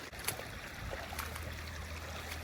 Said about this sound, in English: So we're gonna cross the creek